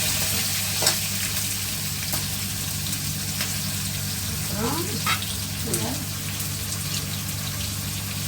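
Chopped onions and green chillies frying in hot oil, a steady broad sizzle running throughout with a few brief clatters of a spoon against the pan. No talking.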